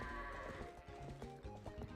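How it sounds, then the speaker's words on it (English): In Zelda: Twilight Princess, Epona's hooves clip-clop in short uneven bursts while goats bleat and shuffle close by, all fairly faint. "Epona, I'm trying to control goats here"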